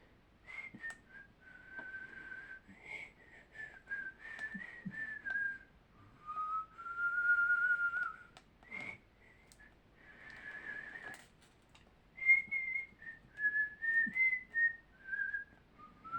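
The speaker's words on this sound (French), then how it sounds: "Je siffle." A man whistles a meandering tune in short phrases with pauses between them, soft and close, carried alone over a quiet indoor background.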